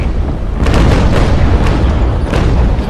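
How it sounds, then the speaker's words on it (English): A brig's ship cannons fire a full broadside volley in a naval battle video game, producing loud, continuous rumbling booms that overlap into one sustained roar without any speech. "I actually meant to only fire a single shot and instead accidentally fired an entire volley."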